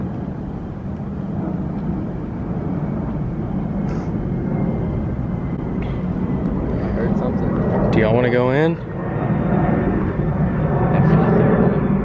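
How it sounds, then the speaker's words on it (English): Outdoors at a suspected haunted site, an airplane drones overhead in a steady, loud, broad roar that fills the whole stretch, while people talk quietly beneath it. "After this airplane."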